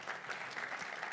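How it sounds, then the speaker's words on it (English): Faint, brief applause from an audience welcoming a speaker at a conference, a soft steady patter of clapping heard from a distance. "please encourage all of you to give a warm round of applause"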